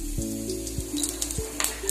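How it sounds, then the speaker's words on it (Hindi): Steady sizzling of hot oil with a few sharp crackles as tempering spices drop into the pan, continuous and close. "तेल भी हमारा गर्म हो गया है, अभी हम उसमें तड़का देंगे"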